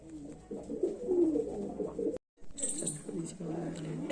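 Pigeons, including a gola mother bird, coo in soft, throaty bursts close by under a voice, with a brief gap midway before cooing and talk resume.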